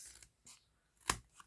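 Scissors snip through a folded card base during hand trimming, giving two or three soft short cuts and one sharp, crisp snip near the end, close and otherwise quiet.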